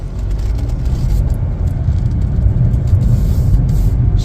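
A Chevrolet Trax compact SUV rolls along a road, its steady low engine and tire rumble holding loud and close throughout while it slows and brakes, with no voices over it.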